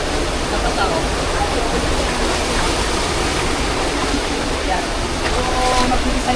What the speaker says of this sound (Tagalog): Maganda na maganda yung agos ng tubig. Yung bagsak niya.